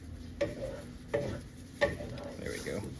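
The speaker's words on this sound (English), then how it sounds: "we sat around for a couple more hours stirring up this roux" A spoon stirs a Cajun gumbo roux in a pot, making three sharp scraping clinks against the pot about a second apart over a soft, steady sizzle.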